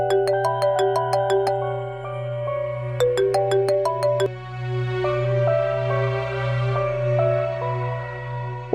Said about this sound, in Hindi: फोन उठाएं एहसान साहब प्लीज।